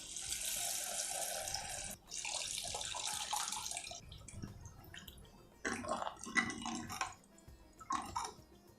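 Tamarind water runs into a cooking pot in a steady pour, then stops briefly and comes back in uneven splashes and trickles, close and fairly quiet.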